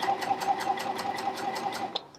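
A Janome Coverpro 1000cpx coverstitch machine runs a steady row of stitching on fabric, its needle tapping in a fast, even rhythm close up before stopping abruptly near the end.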